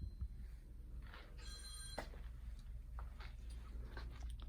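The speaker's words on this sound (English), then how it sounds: "Someone's phone is ringing." A phone rings briefly inside a busy antique shop, a short burst of bright electronic ringtone tones standing out over the steady murmur of the room.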